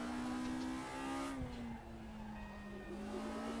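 A race car engine in the RaceRoom Racing Experience video game holds a high, steady whine, dips briefly as it shifts, then settles into a sustained drone with faint tire squeal.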